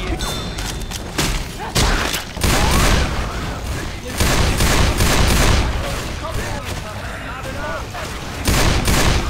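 Repeated gunfire bursts in the zombie shooter Left 4 Dead 2, loud and dense, with rapid shots and thuds overlapping. Voices talk over the shooting throughout.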